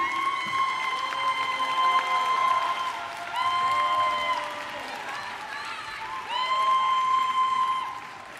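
Graduation ceremony crowd for a science faculty applauding and cheering loudly and continuously, with whoops and shouts layered over dense clapping that swells twice.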